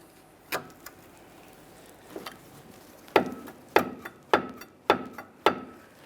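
A small pry bar works against the inboard brake pad to push back the caliper piston on a 2007-2013 Acura MDX rear brake, giving a few sharp metallic knocks and clicks, then a steady run of five evenly spaced taps, close and fairly loud, with no talk.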